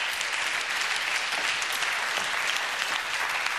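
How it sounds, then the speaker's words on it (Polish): A studio audience applauds during a television programme, with dense, even clapping that fills the whole stretch without a break and no talk over it. "A, brawa, proszę państwa."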